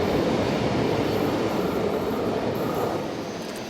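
RER commuter train at a station platform, a steady loud rumble of rolling rail cars that holds throughout and eases slightly toward the end, with no voices.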